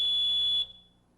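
A smoke detector alarm sounds a loud, piercing steady electronic tone up close, then cuts off abruptly and leaves a brief fading ring.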